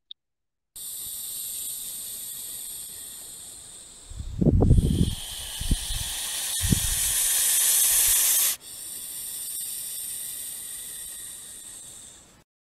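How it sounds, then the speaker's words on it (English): A gopher snake's sustained, intense hiss, broad and airy, rising into a louder sharp burst midway with a few low thumps, then easing back to a steady hiss. "That's a pretty intense hiss"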